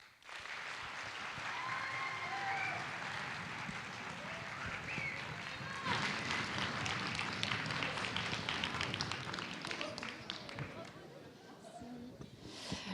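Sustained applause from an audience at a school pleading contest final in Compiègne, dense and steady clapping, with some voices mixed in.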